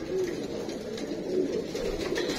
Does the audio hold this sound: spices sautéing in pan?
no